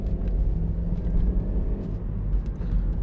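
A 2011 Honda CR-Z 1.5 IMA Sport hybrid pulls away, a low, close engine rumble rising steadily over a few seconds, with no talk.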